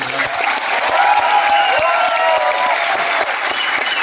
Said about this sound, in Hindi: हम सिर्फ अपनी तरफ से उनको तालियां दे सकते हैं